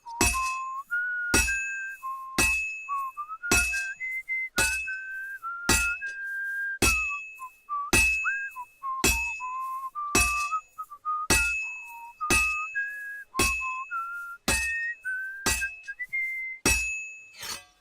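Blacksmith in Kingdom Come: Deliverance II whistling a wandering tune while hammering a sword, with sharp metallic clinks striking in a steady rhythm, roughly one per second, loud and close throughout.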